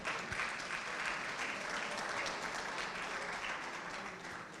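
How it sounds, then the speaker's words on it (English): An audience at a sanitation and learning conference applauds after a presentation, sustained clapping from a large crowd that is fairly distant and soft and fades slightly at the end. "let us give Mrs. Okunu another round of applause"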